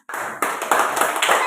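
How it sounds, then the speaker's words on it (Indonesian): A classroom of children claps hands in short, bright bursts, starting abruptly after a brief silence and continuing in uneven groups of close, loud claps. "Tepuk tangan buat kalian."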